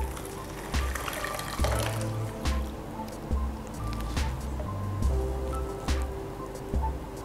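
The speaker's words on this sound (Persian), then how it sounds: "بلغور رو توی ظرف بزرگتر میریزیم و بهش آب جوش رو اضافه میکنیم" Boiling water poured from a kettle onto bulgur in a large bowl while making kısır, a steady watery splashing and trickling broken by a few clinks and knocks, close by, with no talk.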